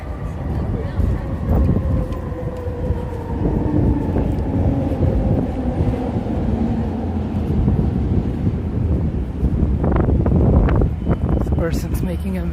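A SkyTrain in British Columbia, Canada, runs as steady rail rumble and tonal hum along with wind noise, swelling louder near the end; a voice talks over much of it.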